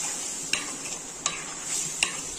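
Fish curry being stirred in a pan, with a soft sizzle throughout and three distinct scraping clacks of a utensil against the pan at even intervals.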